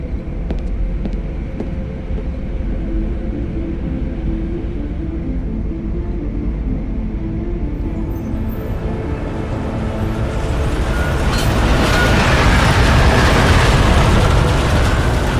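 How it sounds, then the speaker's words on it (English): A train pulls into a station in the video game Deus Ex: Mankind Divided, a steady loud low rumble and rolling roar that swells and grows brighter and hissier toward the end, with no talk. "Just getting off the train now."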